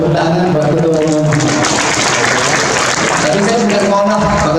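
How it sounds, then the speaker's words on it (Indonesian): A crowd applauds the chairman at a Golkar party consolidation gathering in West Java, with sustained clapping running the whole time as a voice speaks loudly over it. "Tepuk tangan Pak Ketua Umum."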